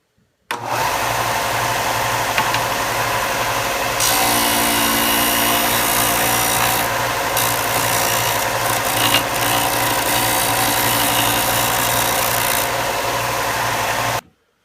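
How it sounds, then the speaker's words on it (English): A disc sander runs steadily for a wooden cutting board, with a loud constant motor hum and a rough grinding rasp that changes as wood is pressed against the disc, close and continuous with no talking. "Now time to go to the sander."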